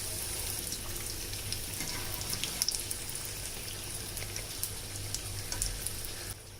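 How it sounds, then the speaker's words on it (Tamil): Chicken samosa parcels fry in hot oil in a pan, a steady dense crackle and sizzle of bubbling oil running throughout, close and even, with occasional sharper pops. "ஒரு பேனில் ஆயில் வச்சுருக்கேன் ஆயில் நல்லா ஹீட் ஆயிடுச்சு பார்சல் இதில் சேர்த்துக்கலாம்"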